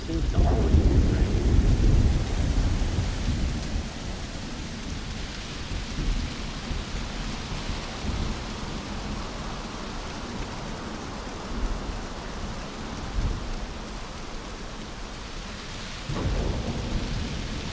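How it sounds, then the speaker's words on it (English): Steady rainfall with rolling thunder in the Starfield video game, opening on a loud low rumble that eases into a continuous rain hiss, with a few softer thumps and another swell of thunder near the end. "Seems to always be raining."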